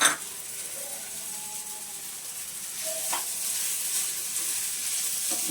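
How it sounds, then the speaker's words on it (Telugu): Sugar poured onto semiya in a hot pan for semiya kesari, a steady close sizzle with faint scraping and stirring and no talk. "ఇదిగో పంచదార వేసేస్తున్నాను"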